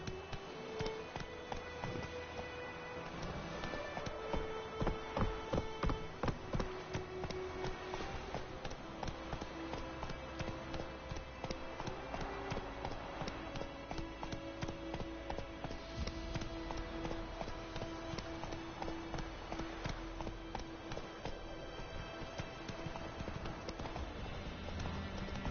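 Roach the horse gallops in The Witcher Wild Hunt game, with steady rhythmic hoof clip-clops running on at a moderate level against a constant game background.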